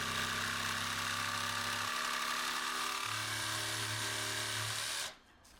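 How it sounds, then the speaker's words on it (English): A jigsaw nibbles a freehand design out of wood, a steady buzzing drone with a shifting low hum, running continuously before cutting off abruptly near the end. "I'm just going to nibble away the top of it now with the jigsaw"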